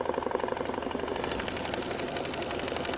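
An embroidery machine stitches a tack-down line on a cucumber eye mask, a steady, fast, even mechanical whir with rapid needle clatter running without a break at close range.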